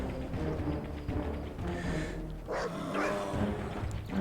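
A dog barks in the Red Alert 3 real-time strategy game, a few yapping barks and whimpers standing out among battle effects and unit noise at moderate volume.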